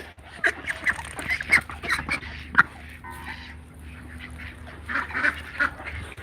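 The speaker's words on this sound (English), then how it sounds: "where's the white little duck?" Ducks quacking and honking nearby in a yard, a scattered series of loud calls bunched at the start and again near the end, with a quieter stretch between.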